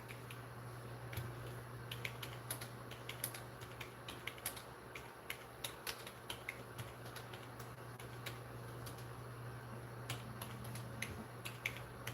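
Steady fingers type on a computer keyboard at a desk, crisp key clicks landing in quick irregular bursts over a low constant electrical hum, close and moderately quiet with no talking.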